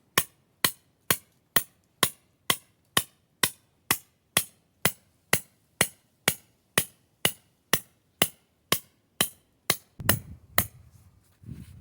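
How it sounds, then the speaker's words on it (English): A 4-pound handheld sledgehammer drives a metal trap stake in a steady rhythm, about twenty sharp, ringing blows evenly spaced, followed by a brief rustle. "just a 4-pound handheld sledgehammer"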